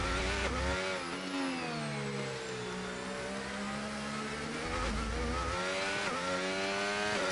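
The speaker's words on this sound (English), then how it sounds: "You can hear that engine cutting down." A race car in a sim-racing game at the Mexico circuit, its engine note droning and sagging as the power cuts in and out, with a steady loud whine and several shifts in pitch, no talking.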